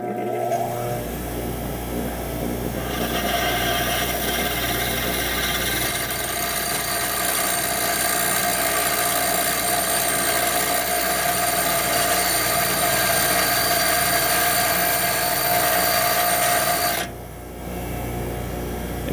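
A valve grinding machine spins a stock engine valve against a stone, cutting the valve face with a steady, loud whining grind and hiss that starts after a moment, holds for the length, then cuts off near the end.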